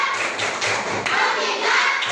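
A group claps a quick rhythmic focus pattern, with several close, sharp hand slaps in a short burst and faint voices around them.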